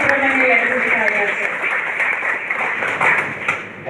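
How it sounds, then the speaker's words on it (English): An indoor audience at a university book release event in Mangalore breaks into applause, a dense steady patter of many hands clapping that lasts a few seconds, with a voice speaking over it. "Can we give a big round of applause to Professor Vice-Chancellor."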